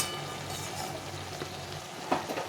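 Small fish chachchari cooks in a pan with a soft, steady frying hiss, and a couple of light stirring scrapes sound near the end, close and fairly quiet, with no talking.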